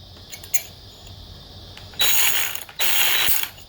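Ryobi multi tool working as a lock pick on a lock, a few faint clicks followed by two loud buzzing ratcheting bursts close by, with no talk.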